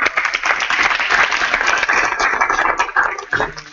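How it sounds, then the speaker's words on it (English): Applause from the audience at a general assembly meeting after a presentation, a steady dense clapping that holds through the whole stretch with a few voices mixed in. "Applause."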